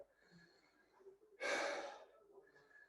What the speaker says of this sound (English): Apologies for the heavy breathing.